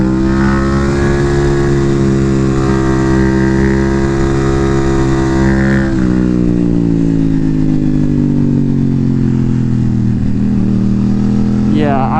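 An Aprilia Tuono 660 with an UpMap tune and mods revs hard through the gears, its auto blipper giving quick downshift blips. The engine sound rises, drops and rises again, loud and close for the whole stretch, with a rider talking over it.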